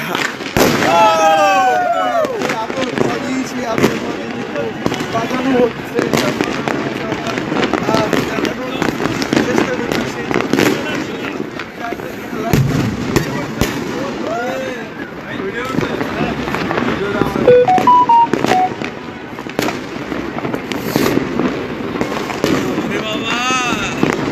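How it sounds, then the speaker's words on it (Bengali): Fireworks and firecrackers going off across the capital on New Year's night in defiance of a ban, a dense, continuous stream of pops, crackles and bursts at varying distance, with some whistling rises, under a reporter's voice. "এবছরও চলছে আতশবাজি ফাটানোর যেই ধারা"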